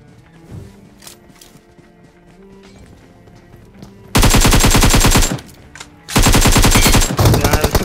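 AKM rifle fire in a mobile shooter game comes in two loud, rapid bursts, each lasting about a second, after quieter game sounds and footsteps, with a short burst at the very end.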